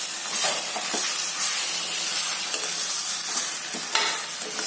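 Scrambled eggs for egg burji, a Kerala-style thoran, sizzle steadily in a hot pan as they are stirred, a continuous bright hiss broken by a few soft scrapes of the spoon.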